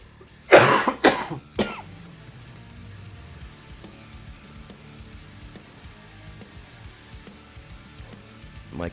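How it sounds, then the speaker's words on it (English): Several harsh coughs burst out close to the mic in the first two seconds, followed by quiet room sound and faint background music during a Path of Exile game stream. "My cough definitely likes to act up early on the stream."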